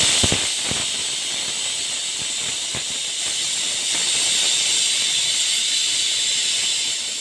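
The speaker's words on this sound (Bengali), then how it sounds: "আর এইদিকে এঁচোড়টা প্রেসারে সিটি করছে।" A pressure cooker boiling jackfruit on a home stove releases a strong, continuous steam hiss that swells slightly midway, with a few short clicks at the start and no talking.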